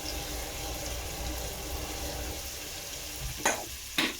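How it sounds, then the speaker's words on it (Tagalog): Spaghetti sauce sautéing in a pan, a steady close sizzle with soft stirring, then two brief louder scrapes or clinks near the end; nobody speaks. "So habang ginigisa mo yun,"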